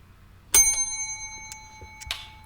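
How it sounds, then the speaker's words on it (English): A small bell, like a bicycle or counter bell, is struck once with a bright ring that sustains and fades, followed by a couple of lighter clicks in a quiet room. "All right, you give a ring to the bell,"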